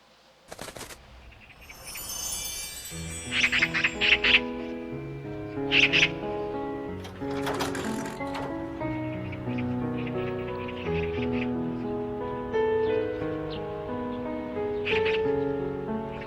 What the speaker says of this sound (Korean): 얘야, 저 새가 무슨 새냐? 까치라니까요.